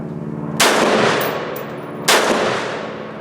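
A Cetme L rifle fired offhand: two loud, sharp gunshots about one and a half seconds apart, each trailing off in a long echoing decay.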